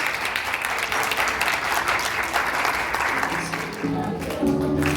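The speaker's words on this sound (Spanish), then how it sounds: "ese aplauso que se escuche con ganas" Sustained applause from an audience at a community Christmas story-writing contest, loud and continuous throughout, with faint tonal sounds emerging toward the end.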